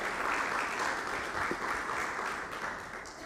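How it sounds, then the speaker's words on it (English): A round of applause for an advisory board member at a reception for an accreditation centre in Abu Dhabi, steady dense clapping from a sizeable indoor audience lasting about three seconds. "Please give her a round of applause."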